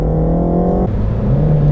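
Renault Megane RS 2018 with its 280 hp turbo petrol engine and manual gearbox, revving loud and steady with a sustained engine note that drops briefly mid-clip, then climbs again.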